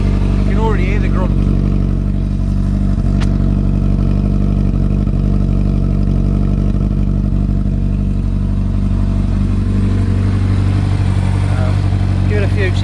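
Suzuki RF600R motorcycle fitted with a new stubby exhaust, running loud and steady at a deep idle close by, with a slight rise in tone toward the end and brief voices over it.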